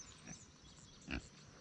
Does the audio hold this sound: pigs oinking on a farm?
yes